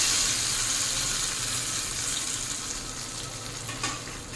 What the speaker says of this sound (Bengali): এখন ডালের মধ্যে ভেজে রাখা পেঁয়াজ রসুন দিয়ে দেবো।